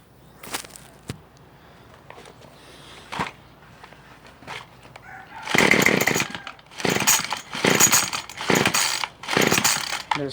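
Hyper Tough gas string trimmer being started by pull cord: a few quieter early pulls, then a run of loud, rasping rips close by, each a short burst with brief gaps, no engine catching.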